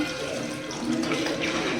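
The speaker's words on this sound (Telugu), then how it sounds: "కొంచెం వాటర్ పోసుకోవాలన్నమాట" Water is poured into a pan of potato kurma with yogurt and chili powder, a brief, close, rushing splash that swells slightly midway, with no voices.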